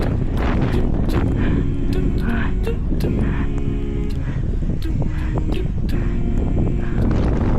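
Strong wind blasts straight into an outdoor microphone, a loud, continuous low rumbling roar with scattered knocks and clicks throughout.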